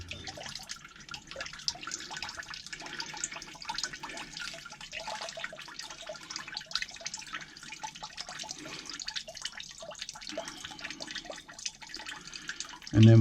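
Water draining out of a steam boiler pipe line, a steady rushing, gurgling flow that runs continuously and fairly close, with no one talking.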